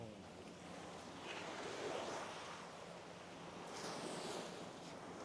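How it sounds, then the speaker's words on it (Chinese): Sea waves wash onto the shore at East Coast Park beach in Singapore, a continuous broad roar of surf that swells and eases, mixed with wind buffeting the microphone. "感觉海浪还挺大的。"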